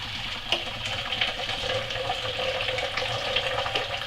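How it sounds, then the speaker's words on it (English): Frothy chocolate almond milk pours steadily into a bowl, making a continuous close splashing gurgle with a few small splats along the way. "And as you see, I'm just going to pour it in here like so."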